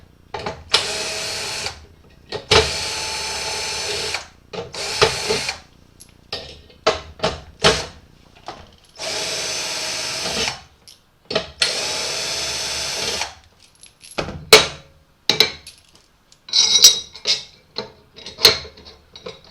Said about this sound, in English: So I take all these screws out.